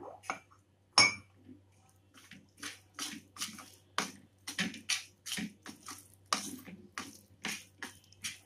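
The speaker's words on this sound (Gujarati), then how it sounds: "હવે જોઈએ એમ થોડું આપણે પાણી ઉમેરીશું." Water is poured bit by bit into a gram-flour batter for taro leaf patra, giving splashy pours with clinks of a spoon and bowl in a steady series of close bursts.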